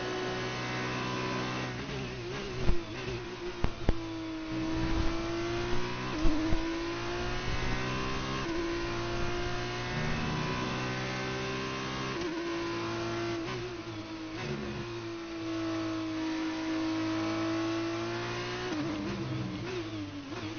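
Formula 2 race car running a lap at the Brazilian Grand Prix, its engine a steady, high-revving drone whose pitch rises and dips through gear changes and corners, with a few short sharp bursts and no talk.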